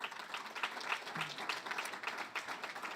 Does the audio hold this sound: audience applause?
yes